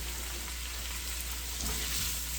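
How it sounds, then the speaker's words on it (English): Cabbage soup with black pepper frying in a pan, giving a steady close sizzle with faint scraping from a stirring spoon, a little louder near the end, with no talk. "And then Ramona's going to stir this up."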